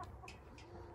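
Chickens in a coop cluck faintly in a short, quiet burst of a few soft calls against a low background hum.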